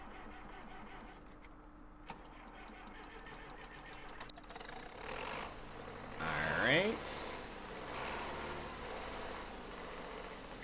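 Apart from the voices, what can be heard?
tractor engine starting and idling in Farming Simulator 2013 video game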